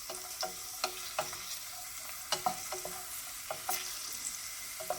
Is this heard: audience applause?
no